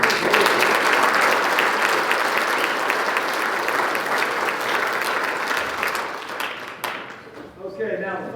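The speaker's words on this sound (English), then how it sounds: "round of applause for the defense" A crowd at a high school football awards night applauds the defense, a loud, full round of clapping that fades near the end as a voice begins speaking.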